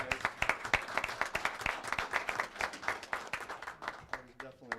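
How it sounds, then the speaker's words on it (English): Applause at a city council meeting: scattered, fairly quiet hand claps from a small group, uneven in rhythm and tapering off, with voices speaking over the clapping. "That was definitely worth some applause."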